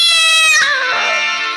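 On a nautanki stage, a performer's voice imitates a cat's meow: one drawn-out, harmonic, whining call that bends and fades over about a second and a half, loud and close, with no other talk.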